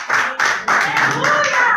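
A church congregation claps together in short, loud bursts of applause, each lasting a fraction of a second with brief gaps between.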